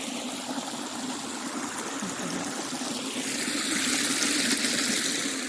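Steady running spring water rushes and trickles continuously, fairly close, growing a little brighter and louder toward the end with no voices.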